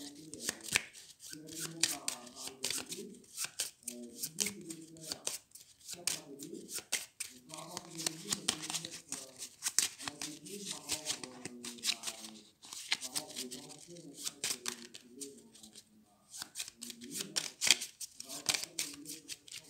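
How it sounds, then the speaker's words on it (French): A deck of cards from the Dinoblivion board game is shuffled repeatedly, making close, rapid riffling and snapping bursts in rhythmic waves, with a voice talking over them. "Je mélange, parce que je n'ai plus de cartes."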